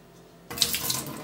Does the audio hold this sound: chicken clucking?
no